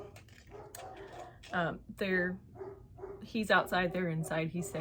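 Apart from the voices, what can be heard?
dogs barking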